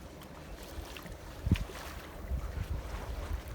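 A sailboat sailing close-hauled near mountains and an island, with steady wind buffeting the microphone, low rushing water and waves along the hull, and a brief louder gust or slap partway through.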